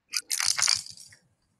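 A Trerero fishing lure shaken by hand, giving a bright hissing rattle in a short burst that fades out after about a second.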